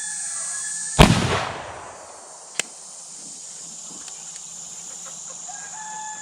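An 1847 Colt Walker revolver fires a 253 grain bullet outdoors, one loud sharp shot with a broad rumbling tail that fades over a second, followed by a brief faint crack moments later, roosters crowing in the background.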